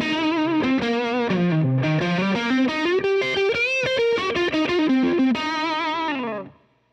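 An electric guitar on the neck pickup plays through a Boss DS-1 distortion pedal with a Tri Roxx Plus mod, giving a thick, sustained, saturated tone as a continuous run of notes and bends that rings out and fades at the end.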